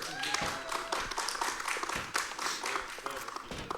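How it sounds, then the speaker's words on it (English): A crowd claps steadily at a speedrunning charity marathon event, a warm wash of applause that stays fairly even, heard from a slight distance with a voice faintly underneath. "Big round of applause."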